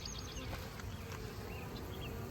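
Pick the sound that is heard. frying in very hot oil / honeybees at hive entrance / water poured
honeybees at hive entrance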